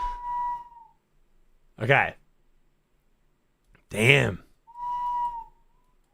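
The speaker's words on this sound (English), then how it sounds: "We bought her a bird whistle." A bird whistle blown hard gives a clear, sustained piping tone at the start and again near the end, with brief speech in between.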